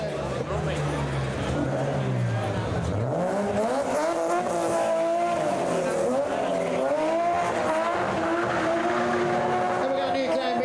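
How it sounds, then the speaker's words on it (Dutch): Rally car at the Nieuwkerke shakedown passing across a small town square, engine revving and changing pitch as it comes close, with tires squealing and skidding, while an announcer talks over a public address system. "met de navigator Sabine nummer 73 hier weer voorbij op de Esplanade, het pleintje"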